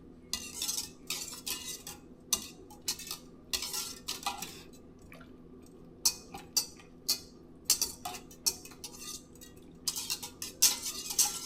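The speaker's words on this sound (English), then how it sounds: "hot milk and just whisk it until the butter melts" A whisk clinks steadily against a bowl while butter is stirred into hot milk, quick irregular metallic taps and scrapes close by with no voices.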